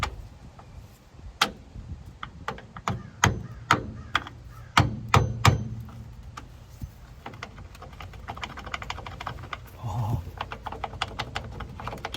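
Sharp impacts ring out during a vehicle strap support replacement as a part is pounded into place, a run of hard, uneven knocks close by, some isolated and some in quick clusters, then a softer stretch with lighter taps.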